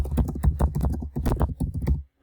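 Rapid clattering keystrokes on a computer keyboard, close and fairly loud, in uneven bursts that stop abruptly at the end.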